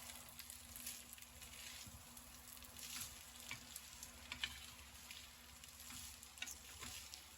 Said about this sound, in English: I'm going to saute this in the butter and make sure everything gets coated.